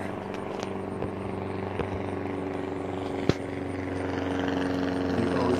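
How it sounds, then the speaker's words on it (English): Steady droning aircraft engine with propeller hum, a continuous, moderately loud tone holding level throughout, one brief knock partway through, with no talking. "oh wow, my plane. My plane. That's cool."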